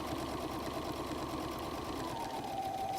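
A sewing machine runs steadily, stitching across a messenger bag pocket with a continuous close mechanical whir that holds level for about three seconds, slight pitch drift near the end.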